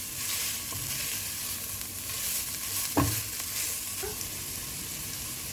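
Shredded chicken sautéing with onions in a hot pan, a steady sizzle and fry with a sharp clink of a utensil against the pan partway through, no voices.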